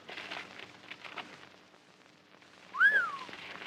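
A single bright whistled note rising and falling, sounded by a person, with faint rustling and soft background noise before it.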